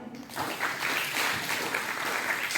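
Audience applause after a Hindi poem recitation at an inter-school competition, a dense, steady wash of clapping that rises quickly after a brief quiet start and holds loud throughout.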